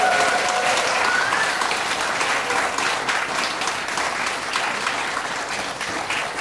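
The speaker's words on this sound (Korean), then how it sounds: "다시 한번 이 두 천재 피아니스트들에게 큰 박수 한번" A concert audience at a classical piano battle in an art hall applauds two 14-year-old pianists, with thick, sustained clapping rolling on evenly from start to finish.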